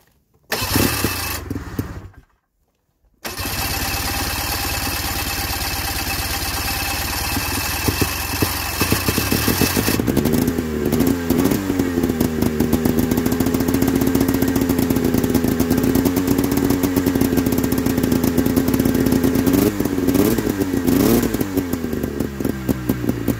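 A motorcycle engine, just fitted with a cleaned carburetor, cranks and catches after a couple of tries, then settles into a loud, rough, close-up idle with a rhythmic mechanical clatter.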